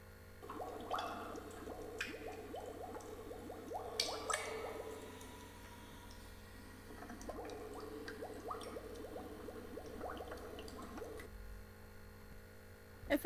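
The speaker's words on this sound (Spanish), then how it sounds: "Efectivamente, chicos, eran burbujas." Bubbles rising and gurgling in water, a run of soft wet pops and drips in two long bursts with a short pause between, fairly quiet and close, with no talk over them.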